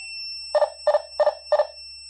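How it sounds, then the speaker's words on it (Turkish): A wireless water leak sensor alarm gives four sharp electronic beeps in an even rhythm, each a quick double chirp, sounding clearly against a quiet background hum. "Şu iki metal bacağı su teması halinde hem kendinden alarm veriyor"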